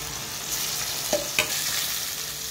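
Chicken curry is stirred in a pan over a continuous soft sizzle, with a couple of short scraping knocks from the utensil near the middle.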